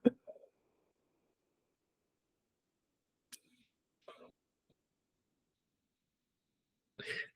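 A man coughs a few times during a maths lesson, brief, close coughs separated by long quiet gaps, with a louder final burst.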